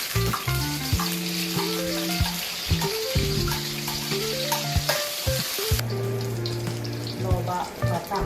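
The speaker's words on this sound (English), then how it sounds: "fry the bawang bakung or bawang besar" Bawang bakung or onions sizzle steadily in a hot pan in a home kitchen. The frying is loud and continuous under background music.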